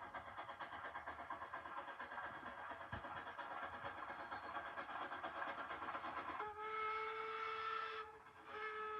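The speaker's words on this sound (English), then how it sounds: "Locomotive 463, west and eastbound" Locomotive 463 passing on a narrow-gauge line at the Narrows, a steady rumble of wheels and engine throughout, then a loud sustained whistle blast near the end, with no voices.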